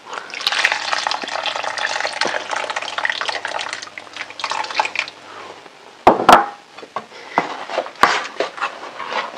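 Hot water pours into a pot of simmering sundakkai vatha kuzhambu, a splashing stream that fades into softer trickles, drips and a few sharp clinks of a utensil.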